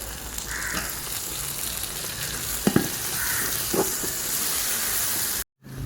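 Tomatoes frying in a pan for mutton biryani make a steady, close, hissing sizzle throughout, with a few brief clinks of stirring, before a sudden cut near the end.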